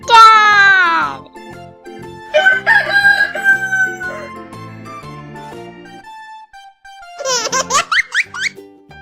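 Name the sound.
rooster crowing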